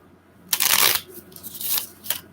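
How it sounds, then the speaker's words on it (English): Tarot cards are shuffled in short bursts, a crisp riffling flutter twice in a row followed by a brief quick flick, close up and fairly quiet, with no talk. "when I try to really shuffle them, they tend to like fall apart"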